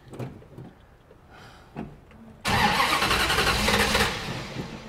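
1964 Dodge race car, not run in a while, being started: faint clicks and rustling, then the engine cranks and catches into a loud, sudden, raw roar that idles roughly up close before easing slightly, with no talking.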